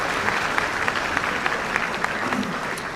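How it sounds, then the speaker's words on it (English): Steady applause from a school concert audience for a middle school band, dense and even clapping filling the hall for the full stretch without a break. "How about a round of applause for this amazing looking band?"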